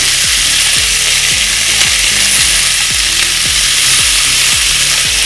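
Maggi masala spices fry in a hot pan over a raised gas flame, giving a constant loud sizzle while a spoon scrapes the pan in a steady, repeated rhythm and no one speaks.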